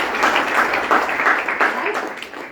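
Audience at a company success meeting clapping together at a speaker's request, a dense steady patter of hands lasting a couple of seconds.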